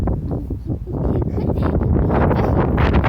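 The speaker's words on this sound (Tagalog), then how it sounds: "Tignan nyo, oh. Sobrang hangin." Strong wind buffets the microphone in a continuous loud roar with gusty surges throughout.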